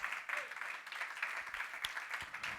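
A church congregation claps along during a sermon, a continuous rhythmic patter of many hands at moderate distance, fairly faint and steady.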